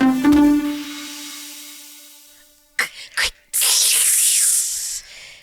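A voice imitates eggs cracking into a hot pan, first a short sung tone fading away, then clicking cracks followed by a loud, breathy sizzling hiss that holds for about two seconds.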